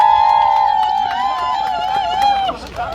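A dense outdoor crowd cheers and claps at a campaign rally in the Seogwipo five-day market on Jeju, with a sustained, loud swell of voices and cheering that fades slightly near the end.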